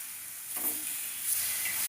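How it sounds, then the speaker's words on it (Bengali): Paneer slices fry on a hot tawa with a soft, continuous sizzle and hiss, fairly quiet and close, swelling slightly midway. "আজকে নিরামিষ পনির বানাচ্ছি, তাওয়া পনির। এই সাইডেও আমি ভেজে দিচ্ছি।"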